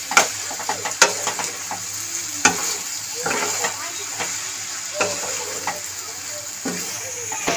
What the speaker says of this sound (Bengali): টমেটোটা দিয়ে একটু নাড়িয়ে নিয়েছি